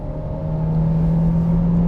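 Volkswagen Touran 2016 accelerating hard, a steady, close engine drone that builds slightly in loudness over two seconds, heard from inside the cabin with no talking.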